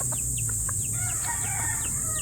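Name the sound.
chicken clucking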